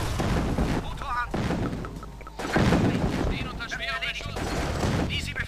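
Bursts of rapid gunfire in Command & Conquer: Tiberian Sun crackle in volleys, with a distant boom between them, while a voice speaks over the action.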